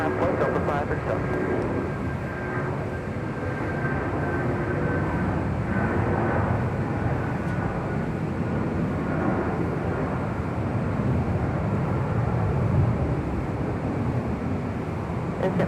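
Boeing 757 jet airliner departing full length from runway 24 left at LAX, a continuous broad engine roar heard from a distance, with radio talk over it.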